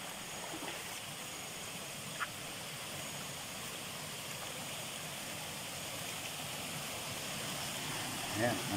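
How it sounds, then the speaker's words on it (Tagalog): Strong spring water gushing out of a mountain cave makes a steady, broadband rushing roar that fills the whole span evenly, with a faint brief sound or two and a slight swell near the end. "Ayan, ang lakas ng bukal."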